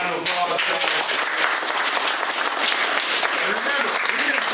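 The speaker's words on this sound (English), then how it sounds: "Let's give them all a round of applause." A group at an outdoor bushcraft meetup gives a round of applause for the people who taught classes, loud, close clapping with some cheering and voices mixed in throughout.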